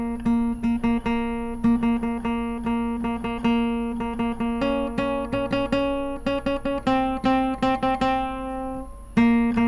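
Single-note guitar melody from a song, a short repeated phrase of crisp plucked notes in steady rhythm, clear and close with nothing else heard.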